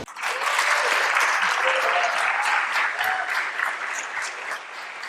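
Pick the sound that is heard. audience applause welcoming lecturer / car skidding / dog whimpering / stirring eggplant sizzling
audience applause welcoming lecturer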